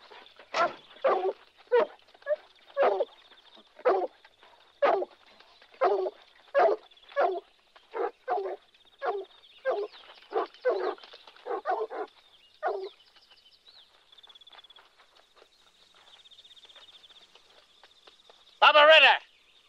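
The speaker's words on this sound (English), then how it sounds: "Keep the dogs quiet." Dogs bark in a rapid string of sharp, repeated yaps at night in a rural farm setting, loud and close, fading out before a final louder burst.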